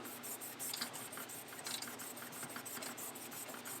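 A cloth soaked in rubbing alcohol is rubbed over a turned spalted tiger oak pen to clear sawdust from the grain, making quick, steady, close scrubbing strokes at a low, even level.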